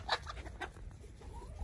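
A chicken clucks a few times at close range, with short soft calls over a low background rumble.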